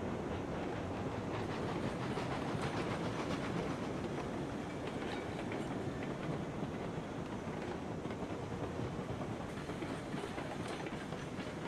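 In Railroads Online, a train pulls a long string of coal cars with a steady, loud rumble and rhythmic clickety-clack of wheels on rail joints, continuous and unbroken, with no voices.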